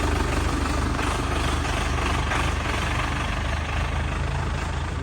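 An Agri Master EX 854 tractor, 85 horsepower 4x4, running with a steady low diesel drone that stays loud and even throughout, close by, with no talking over it.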